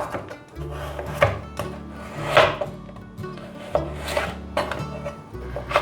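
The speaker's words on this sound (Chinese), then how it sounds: "把红萝卜切片。" Knife slicing a peeled carrot on a cutting board, a quick series of crisp chops in steady rhythm, close and fairly quiet.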